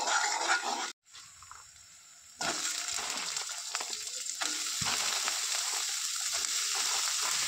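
Chopped garlic and onion frying in hot oil, then kohlrabi and bean seeds added to the pan: a steady loud sizzle that drops briefly, then surges back with stirring scrapes, close up.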